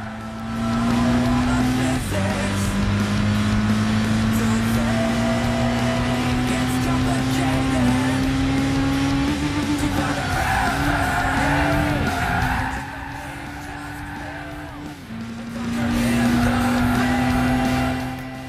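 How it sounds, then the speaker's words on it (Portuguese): A race car engine in the video game Gran Turismo 6 holds a loud droning whine that climbs steadily in pitch, dips briefly at gear shifts, and carries bursts of tire squeal. "Um pouco do volume do motor pra vocês terem uma noção do que eu tô falando"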